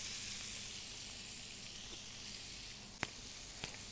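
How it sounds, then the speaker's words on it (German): Lamb chops frying in a pan over high heat for a blackened lamb chop recipe, a soft continuous sizzle with faint occasional pops and a sharper crackle near the end. "Während das Lamm hier brät"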